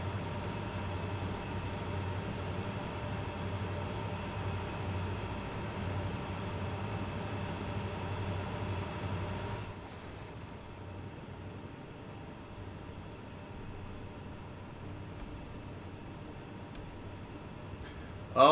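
A Clinchfield Railroad train in the game Train Sim World 2 runs on a descent with a steady low rumble and hum. The sound drops and thins partway through as it enters a tunnel, and a sharp click comes at the end.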